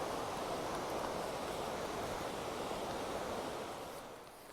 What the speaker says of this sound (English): we got a pretty big river down here next to us that we have to cross